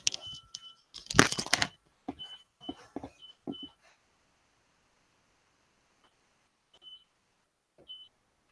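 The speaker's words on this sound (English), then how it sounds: "I got on an alarm going, so I just need to just switch it off." An alarm beeps in short repeated electronic tones amid loud rustling and handling noise, then goes quiet after it is switched off, with a couple of faint beeps trailing near the end.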